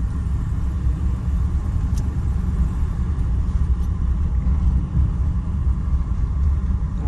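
A 1961 Chevrolet Impala, an original-mileage survivor, rolls along on a cold Colorado day with a steady low engine rumble and road noise heard from inside the car, loud and continuous.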